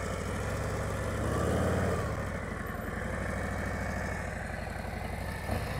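A motorcycle engine idles low and steady, swelling briefly as the clutch is let out and the bike pulls away at slow speed, then settles back to a soft rumble; no talk.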